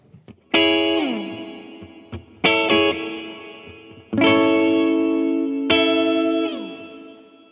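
Four electric guitar chords are struck one after another through a Blackstar ID:60 amp, each ringing out through a splashy, echoing spring reverb tail.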